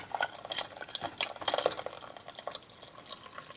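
A spoon stirs a simmering blueberry and kudzu mixture in a pot, soft wet swishing and scraping strokes with faint liquid sloshes, close and quiet.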